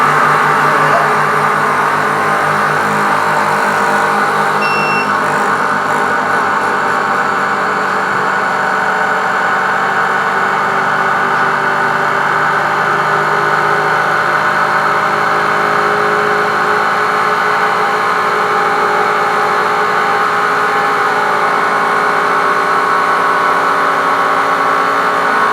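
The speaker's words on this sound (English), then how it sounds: "It's sucking all the air out of the chamber vac." A chamber vacuum sealer's compressor runs continuously to pull air from a bag of jerky meat, a loud, steady motor drone and hum holding level for about twenty-five seconds without a break.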